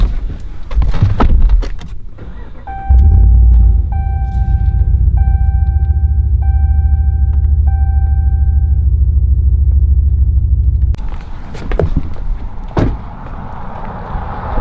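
A Ram pickup truck being moved: doors clunk, then a steady low engine rumble runs for several seconds with repeated chime tones over it, followed by more door thuds and handling noises.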